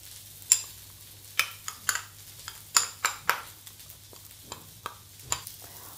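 A spoon clinks and scrapes in a bowl as yogurt and liquid honey are stirred together for a sauce, sharp irregular taps repeating about a dozen times over a quiet kitchen hum.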